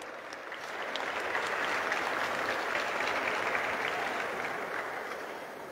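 Audience applause at a women's volleyball tournament award ceremony in Arequipa, a dense, sustained wash of clapping that swells and holds steady for the whole stretch with no talk over it.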